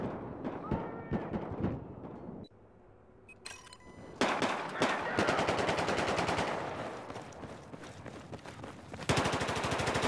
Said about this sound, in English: Oh, shooting the guy in the middle of the road.